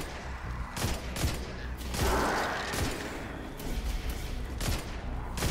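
Gunfire from a firefight in the sci-fi shooter Destiny 2, rapid overlapping shots and sharp thumping reports in irregular bursts, loud and close over a constant noisy backdrop.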